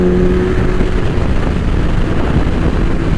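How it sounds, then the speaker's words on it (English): A 2000 Suzuki Hayabusa motorcycle fitted with a Vance and Hines exhaust is ridden at speed. Its steady engine drone sits under heavy rushing wind noise the whole time, with no talking. "this exhaust that this bike has, it's on the quieter side, but it sounds good"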